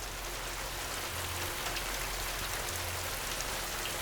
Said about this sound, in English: A light rain shower.